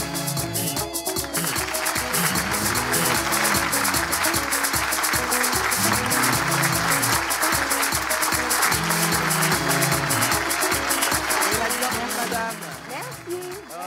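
A studio audience on a talk show applauds in a steady, dense clatter of clapping that lasts throughout, with music and faint voices mixed underneath.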